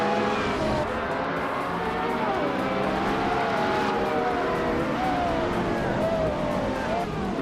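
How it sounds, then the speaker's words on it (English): Hypercars, including a 2015 Ferrari FXX K, race at full throttle on a vintage track in a racing video game, their engines screaming loudly and continuously with pitch sweeps as they shift and pass, and a voice talks over the roar. "Stay tuned as these hypercars go full throttle."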